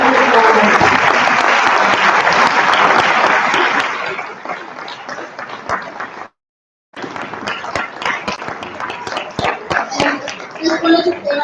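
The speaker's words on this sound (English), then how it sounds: "Please give a round of applause" Audience applause at the close of a Vermont gubernatorial candidates' environmental debate, loud dense clapping for about four seconds that thins and fades, followed by a brief gap and scattered claps with a voice talking over it.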